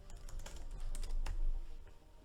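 Computer keyboard typing while text is entered into a trading spreadsheet, a short run of dense, close clicking keystrokes over a low background rumble.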